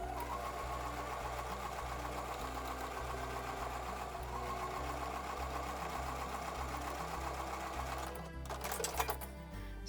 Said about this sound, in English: So now we're going to sew these together in columns.